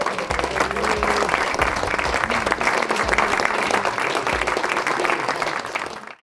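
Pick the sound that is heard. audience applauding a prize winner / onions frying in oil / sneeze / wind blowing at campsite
audience applauding a prize winner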